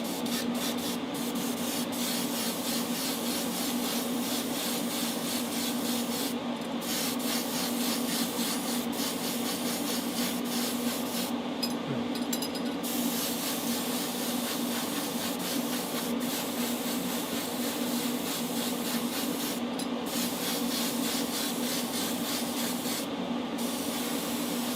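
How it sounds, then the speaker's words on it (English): A continuous hissing spray of air from a small airbrush-type tool drying gray primer on a Matchbox Boss Mustang model car, steady and close with brief pauses, no talking. "when I was just spraying just now, I was actually drying the primer"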